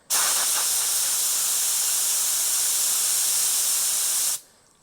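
An InoKraft D1 LVLP air spray gun sprays reducer for about four seconds, a steady, loud, close hiss that starts and cuts off abruptly when the trigger is pulled and released.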